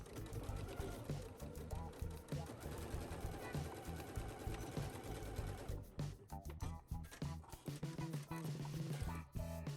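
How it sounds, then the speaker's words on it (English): A sewing machine stitches bodice pieces for a playsuit made from a vintage Butterick B6939 pattern, running in a steady, continuous whir throughout under a dense, busy backdrop of other sound. "Pin and sew the shoulders of the facing the same way that you did the bodice pieces."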